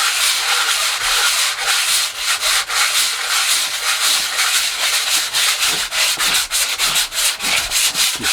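Hardened filler on a cyclekart nosecone over a timber former being sanded by hand: loud, close, continuous rasping strokes in a steady back-and-forth rhythm, with no talking.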